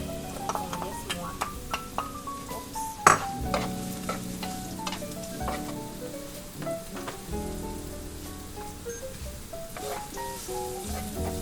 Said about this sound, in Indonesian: Ini aku pakai olive oil, terus aku masukin bawang bombay yang udah dicincang kasar.